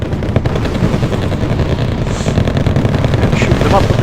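Rumbling gunfire and distant artillery thuds in a modern war video game with tanks and Royal Marines, dense continuous battle noise with a couple of sharper bursts, fairly loud throughout.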